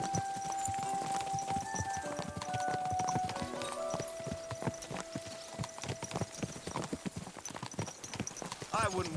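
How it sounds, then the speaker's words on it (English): Horse hooves clip-clop steadily and close by in a video game, a quick run of hollow knocks under sustained musical tones and snatches of in-game voices. "Watch out with that horse!"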